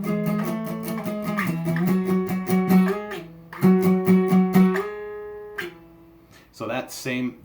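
Electric guitar playing the ending of a song, punchy chords and sliding notes in short bursts with pauses, close and clear, played alone.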